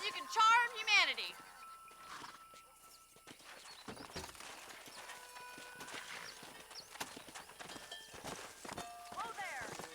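Hooves of a horse clip-clop along a road while herding cattle in the Red Dead Redemption video game, faint, steady steps with a whinny near the start, under in-game voices and music.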